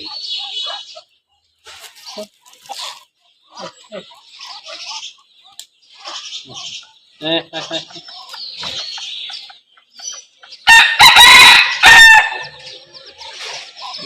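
Free-range country hens cluck and chatter in short, scattered bursts close by on a farm, then a rooster lets out a loud, drawn-out crow near the end.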